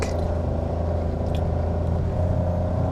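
A car engine drones steadily under load while climbing a steep road, a deep continuous rumble close by with no pauses or gear changes.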